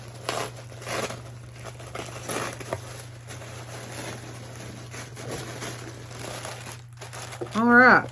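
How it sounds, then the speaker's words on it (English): Purple tissue paper from a beauty subscription box is unwrapped, with intermittent crinkling and rustling bursts and a faint steady hum beneath. A brief louder crinkle comes near the end. "they're always packaged really pretty with their pretty purple tissue paper and the sticker. And so I'm gonna open this up."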